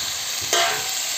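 Chicken leg pieces frying with masala in a pan, a loud close sizzle with a brief stirring scrape in the middle.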